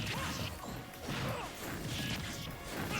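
Forward smash attacks landing in a competitive Super Smash Bros. match between Rosalina and Dark Pit, giving sharp crashing impacts with whooshes and game effects, while a commentator's voice is faintly present.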